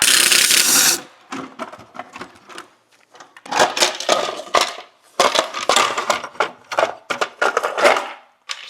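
Two 10 mm bolts come out of the exhaust manifold heat shield on a 2011-2016 Hyundai Elantra engine: a loud one-second burst, then close, irregular runs of rapid metallic ratchet clicking and light rattles with short pauses, no voices.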